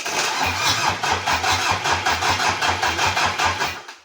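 A freshly overhauled Mitsubishi 4D56 diesel engine runs close while warming up. It throbs loudly at a fast, even beat that swells in waves as it revs a little.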